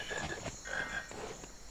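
A frog croaks faintly in a video game, a soft trilling call over a low hum of background noise, brief and without talk.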